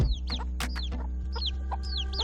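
Hens cluck in a farmyard, a close run of short, chattering clucks mixed with higher chick peeps over a steady low hum.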